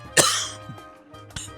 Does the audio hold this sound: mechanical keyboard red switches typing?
no